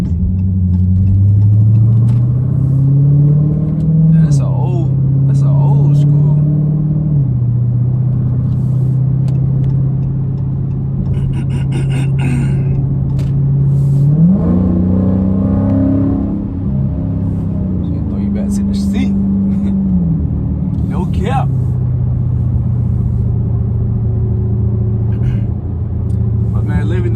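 A 500+ horsepower Dodge Scat Pack rumbles loudly and steadily from the driver's seat as it cruises and revs, its deep engine drone rising and falling through several throttle changes over road noise.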